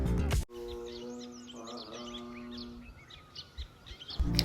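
Small nectar-feeding bird chirps and quick tweets flit over a steady low hum, fairly close, with a few scattered rustles and bumps near the end.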